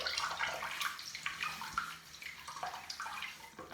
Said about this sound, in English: just dunk a flannel in the water